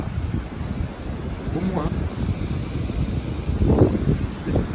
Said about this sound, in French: Regarde-moi ça, les rafales de vent.